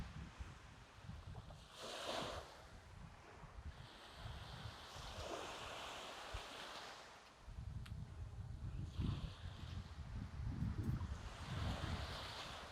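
Ocean waves at the shore during a turtle release in the Cayman Islands: surf washing in and retreating, mixed with gusty wind buffeting the microphone, steady and moderately close with no voices.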